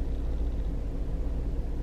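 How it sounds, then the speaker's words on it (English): A steady low hum and broadband whoosh of an air conditioner running, constant and moderately loud with no other sounds. "I just realized that my air conditioner was on for that whole clip"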